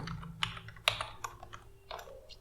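Quick, light keystrokes on a computer keyboard as a web address is typed, a few sharp clicks in a short burst, close and quiet, with no talking.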